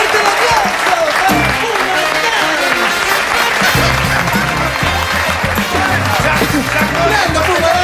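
A crowd gives strong, loud applause for the band at a live show, with low thumping and voices mixed into the dense clapping throughout.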